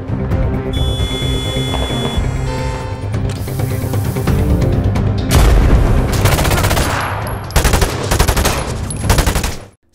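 Gunfire rattles through a film shootout with police, loud dense bursts of rapid shots and booms layered over a tense score, ending abruptly.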